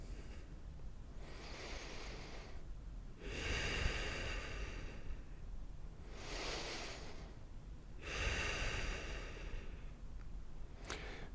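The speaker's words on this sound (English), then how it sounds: "Relax into each exhale." Slow nasal breathing during a yoga flow: a few long, airy breaths with soft hissing exhales through the nose, near and alone with no talking.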